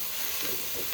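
Masala frying in a pan at a street food cart, a close, continuous sizzling hiss that stays steady throughout, with faint stirring movement beneath it and no talking.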